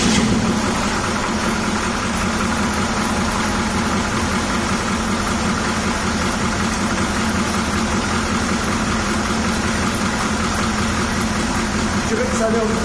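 Oldsmobile 5.7L diesel V8 restarted after a glow plug was refitted during an additive decarbonizing treatment, idling with a loud, close, steady clattering rumble that holds constant throughout.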